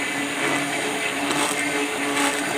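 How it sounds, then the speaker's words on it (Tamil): A blender whirs steadily as it mixes measured oils, including thick castor oil, for charcoal soap, a close, continuous motor hum with a slight rise and fall. "ஆயிலும் நல்லா மிக்ஸ் ஆகிற மாதிரி நல்லா பிளெண்டர் போட்டு கலக்கிக்கோங்க"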